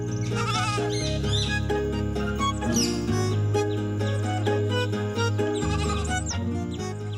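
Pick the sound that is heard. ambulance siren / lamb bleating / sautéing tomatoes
lamb bleating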